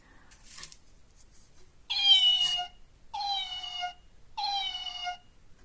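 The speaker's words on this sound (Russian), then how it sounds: "а вот этот мяукает" A toy kitten figurine lets out three clear, evenly spaced electronic meows, each about a second long, in an otherwise quiet room after a faint rustle.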